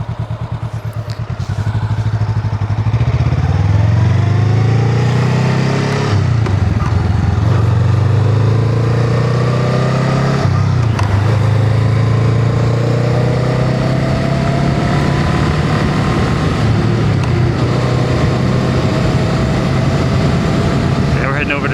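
A Honda Rebel 500 motorcycle engine drones steadily while riding, rising in pitch through several gear changes, loud and close with wind rush throughout.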